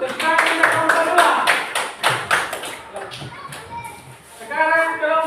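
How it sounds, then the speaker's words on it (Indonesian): Classroom clapping for a student group during a teaching practice lesson, a burst of handclaps in rhythm under a teacher's voice and children's chatter, fading midway before speech resumes. "Tepuk tangan untuk kelompok 2."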